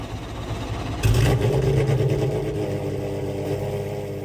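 A naturally aspirated flat-six Porsche 911 in the Roblox game Midnight Chasers cranks and starts with a loud burst, then settles into a steady, throbbing idle.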